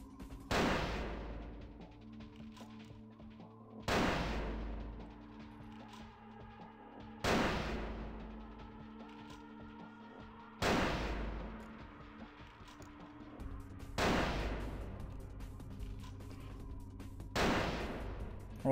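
Gunshots in Vampire: The Masquerade - Bloodlines, six loud single reports spaced about three seconds apart, each with a booming, lingering decay, and no one speaking.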